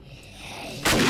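A missile explodes in the video game 7 Days To Die (Alpha 21): a low rumble builds and then breaks into a sudden loud, wide blast that keeps roaring to the end.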